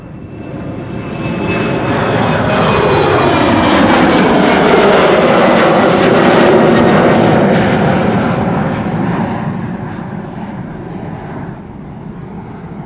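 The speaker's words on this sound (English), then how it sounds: "Air Canada to Montreal in the background, flight 901 7878 Dreamliner" An Air Canada Boeing 787-8 Dreamliner jet roars past at Schiphol Airport, a loud broad engine rumble swelling over several seconds, peaking mid-clip, then slowly fading as the aircraft moves away.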